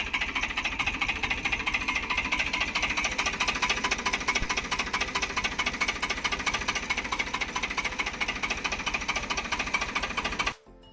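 A first-owner tractor in full running condition idles loudly and steadily with a fast rhythmic knocking chug, close up, then cuts off abruptly near the end.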